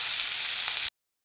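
Pirandai (veldt grape) frying in a generous amount of oil, heard as a steady, close, continuous sizzle that cuts off abruptly after under a second, with no talking.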